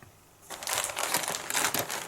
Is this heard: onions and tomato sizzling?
no